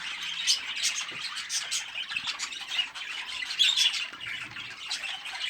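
Show-quality competition budgerigars squawk and chatter in a dense, continuous flock, with shrill chirps overlapping steadily throughout.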